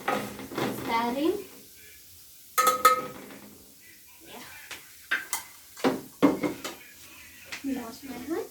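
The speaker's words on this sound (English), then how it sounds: "As you can hear or you can see, it's stirring." A spoon scrapes and knocks against a cooking pot while pilau is stirred, giving scattered clinks and scrapes at a moderate level, with a voice talking at times.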